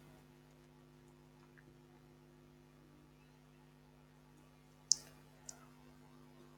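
A single sharp computer mouse click while submitting an online sign-up form, with a second softer click shortly after, both quiet over a steady electrical hum in an otherwise silent room.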